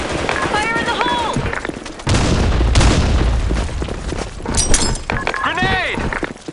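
A grenade explosion in the video game Black Shot: a deep, rumbling boom with crackling debris that erupts mid-clip and decays slowly, surrounded by shouted voices and scattered gunfire.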